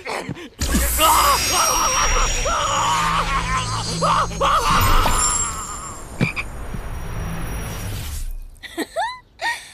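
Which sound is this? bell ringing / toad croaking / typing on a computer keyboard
toad croaking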